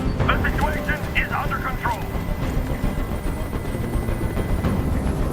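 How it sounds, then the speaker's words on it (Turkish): A helicopter in the video game Detroit: Become Human gives off a continuous rumbling drone throughout, with a voice talking over it near the start. "I can't stand that noise anymore. Tell that helicopter to get out of here."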